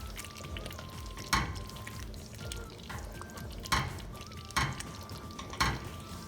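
Chicken saagwala with garam masala is stirred in a pan under a soft, steady simmering sizzle, with four distinct scraping strokes of a spoon spaced about a second apart.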